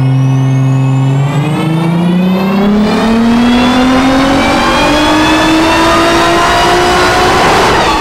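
A high-revving twin-turbo V8 with a flat-plane crank runs on a dyno, loud and close, its pitch climbing steadily in one long continuous pull with no talk over it.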